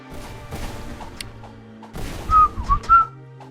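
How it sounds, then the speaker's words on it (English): A person whistles sharply into a microphone, a few quick shrill bursts rising and falling near the end, loud and close over a quiet room. "don't whistle into the microphone"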